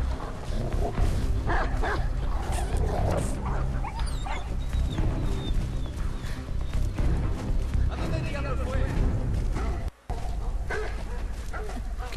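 A German shepherd in the game Beyond: Two Souls barks and whimpers amid game sounds, with someone talking over it throughout.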